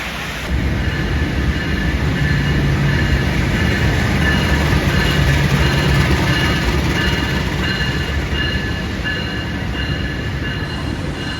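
The Ranggajati passenger train rumbles steadily into a station in heavy rain, with a continuous rolling roar and faint wheel squeal, heavy rain noise beneath, no voices.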